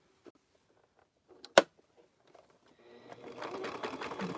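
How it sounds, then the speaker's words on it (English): Sewing machine running a straight stitch through rope and fabric for a coaster, starting after a few soft clicks and a sharp tap, then building into a steady, fast mechanical whir that continues to the end. "I'm going to go ahead and do a stitch in a ditch like the other one. Right here. Straight stitch."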